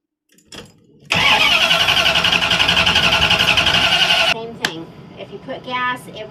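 A van's starter cranks the engine in one long, loud, steady whirring run of about three seconds. It cuts off abruptly, and a few brief, weaker sputters and rattles follow as the engine fails to keep running.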